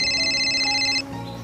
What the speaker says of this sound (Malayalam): എന്റെ ഫോൺ അടിക്കുന്നുണ്ട്